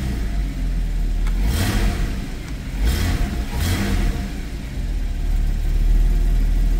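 A 2016 Porsche Boxster Black Edition gives a few short throttle blips over a low idling engine, each rev rising and falling quickly, close and moderately loud.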